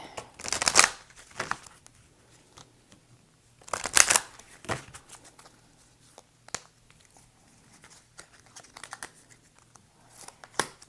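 Tarot cards shuffled by hand in two loud riffling bursts near the start and middle, followed by quieter scattered card flicks and taps as cards are drawn, close and alone with no talk.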